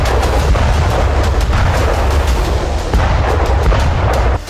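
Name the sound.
rocket blowing up an armored vehicle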